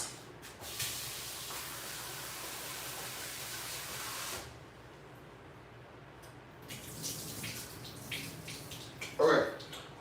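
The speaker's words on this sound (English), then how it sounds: "Let me just give this fennel a little rinse." Fresh fennel is rinsed under a running kitchen tap, with a steady hiss of water for several seconds, then a quieter pause and renewed splashing with a sharper clatter near the end, close and without talk.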